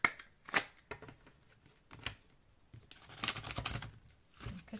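Tarot cards drawn and shuffled by hand at a reading table, a run of crisp riffling flicks and slaps, some sharp single snaps then a denser shuffle burst, close and clear with no talking.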